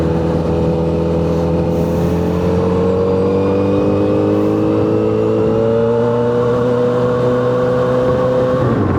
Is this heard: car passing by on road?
yes